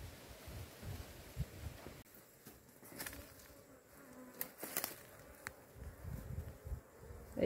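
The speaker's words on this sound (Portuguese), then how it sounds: "Estamos em plena florada da flor do cipuá" Bees buzzing around blooming cipuá flowers outdoors, a faint steady insect drone with light wind noise and occasional rustling, no talk.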